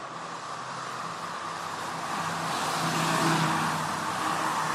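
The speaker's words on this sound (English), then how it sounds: "There goes the 39 bus." A city bus (route 39) drives past on a street, a broad engine and road roar that swells gradually toward the middle and end, fairly close, with no talking.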